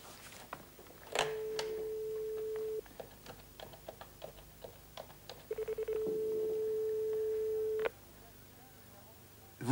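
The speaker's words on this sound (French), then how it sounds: "Je téléphone à monsieur Cadel." Telephone dialing and ringing: dial tones and rapid keypad beeps, then a long steady ring tone, with faint clicks between.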